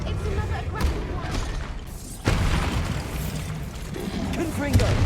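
Bombarda blasting spell detonating in Hogwarts Legacy, a sudden loud boom that cuts in midway and rumbles on, with other game noise and faint bursts around it.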